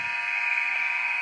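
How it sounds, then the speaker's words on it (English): A youth U14 ice hockey game ends with the arena buzzer: a steady, loud electronic drone holding without a break from start to finish. "as the buzzer goes"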